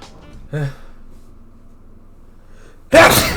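A brief vocal sound, then a pause, then one loud, sharp sneeze bursting out close up.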